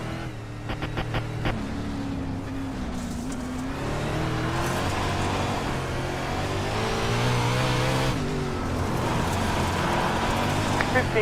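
Racing car engines in the iRacing video game whine and rev continuously, the pitch climbing and shifting through gears, while a person talks over the engine noise.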